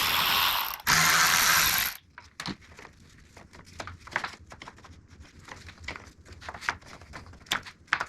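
A hand ratchet clicks in short bursts while removing bolts in the engine bay of an Audi A6 C6 3.0 TFSI, close and sharp, after a loud rustling noise at the start.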